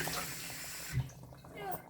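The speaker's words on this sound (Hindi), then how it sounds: "मैं हाफ प्याली के करीब इसमें पानी डालूंगी" Water poured from a half cup into a pot of shahi qorma with onions, a soft steady splash and trickle with a brief louder pour near the middle, heard quietly.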